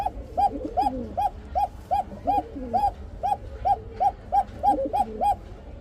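High-flyer pigeons, a male and a female, coo back and forth in a steady run of about a dozen rhythmic, close, clear calls over a low background hum.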